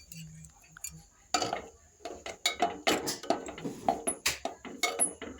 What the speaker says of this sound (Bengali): এবার আমি হলুদ দিয়ে একটু ঘেঁটে নেব ডালটাকে।